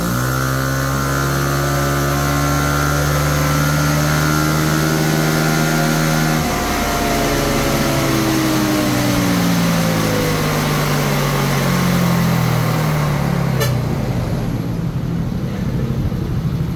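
Tuned Uma M9 scooter engine held near 3,000 RPM, a loud continuous droning whine whose pitch holds steady, then sweeps and wavers as the revs shift, alone with no talking.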